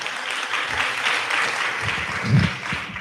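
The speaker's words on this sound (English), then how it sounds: "Let's give our students and staff members another round of applause," Sustained applause from an audience at a school board work session, honoring students and staff, steady and dense throughout with a slight swell near the end.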